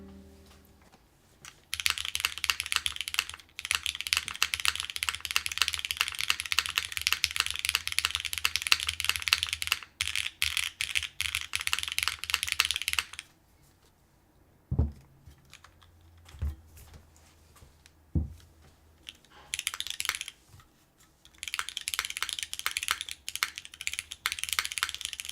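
Typing on a Tofu60 mechanical keyboard fitted with Cherry switches, heard close up as rapid bursts of clacking keystrokes. The bursts are broken by pauses, and a few isolated heavier key thumps fall in the quiet gaps.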